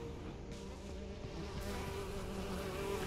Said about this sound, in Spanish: Cuidado con las avispas.